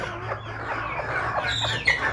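Native hens cluck near and clear inside a coop. Several short clucks follow one another over a low steady hum, with one sharper note near the end.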